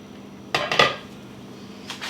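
A lid comes off a crockpot of chicken and dumplings in a home kitchen: a couple of close ceramic clinks and a rattle, then a faint second knock, with no talking.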